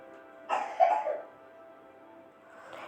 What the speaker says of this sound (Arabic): عنده حساسيه وعمال يكح اليومين دولت